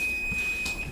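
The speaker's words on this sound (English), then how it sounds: "that is the timer for the muffins" A kitchen timer signals that muffins baking in the oven are done, a steady high electronic tone sounding continuously and fairly loud, with faint kitchen noise.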